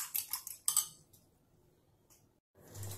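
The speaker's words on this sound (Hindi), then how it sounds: "अंडों की सफेदी के अंदर मैंने थोड़ा सा नमक और काली मिर्च डाल के अब मैं इसको अच्छे से फेंट लूंगी" Egg whites seasoned with salt and black pepper are whisked in a bowl for Lebanese kabab, giving a quick run of close, rhythmic clinks for under a second before the kitchen goes quiet, with a little later clatter.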